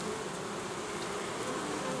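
Honeybees buzz in a dense, steady drone at a beehive entrance narrowed to a single hole, the sound close and continuous with no voices.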